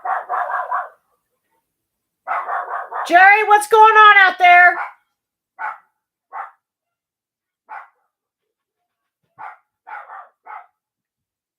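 Several dogs bark in short bursts, some close and loud, with a person speaking briefly in the middle; barks continue sparsely after.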